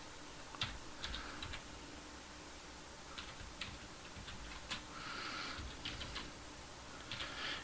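Faint clicks of typing on a computer keyboard come in short, scattered bursts separated by quiet pauses in a hushed room.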